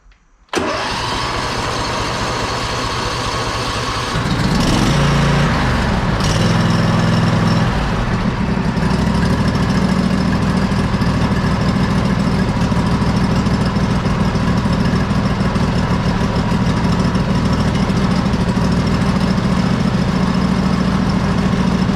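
A Simplicity Regent lawn tractor engine cranks briefly, catches and fires up, then settles into a steady, loud, close idle with an even mid-pitched drone that runs uninterrupted to the end.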